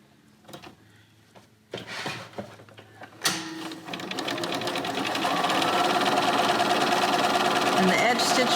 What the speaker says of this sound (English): So now to stitch down the ribbons, I'm going to start right here in the middle.